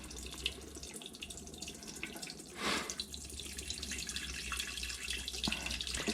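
Beef broth poured into an Instant Pot pressure cooker makes a steady, faint liquid splash and trickle that runs throughout under a low hum, with no talk.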